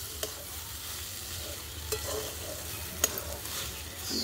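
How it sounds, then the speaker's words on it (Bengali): A chili sauce mixture with turmeric fries with a soft, steady sizzle in a pan, broken by occasional spoon clinks and scrapes as it is stirred. "এবার একটু ভালো মতো করে নেড়ে ছেড়ে নিতে হবে।"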